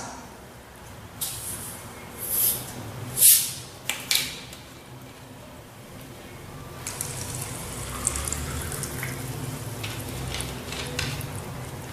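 Sparkling water is poured into a container for an oxidation-reduction potential test, making a splashing, fizzy stream with a few sharper clinks early on, then a softer continuous hiss.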